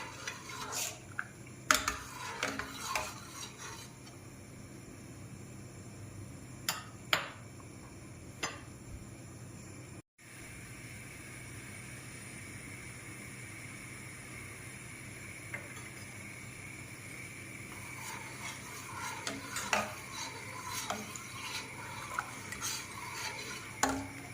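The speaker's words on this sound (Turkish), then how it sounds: "Haşlanan pirinçlerin üzerine 1 litre süt ve 1 paket vanilyayı ilave ederek karıştırmaya devam edelim." A spoon clinks and scrapes intermittently in a pot of boiled rice with a litre of milk and vanilla for baked rice pudding, sharp taps scattered over a steady kitchen hum.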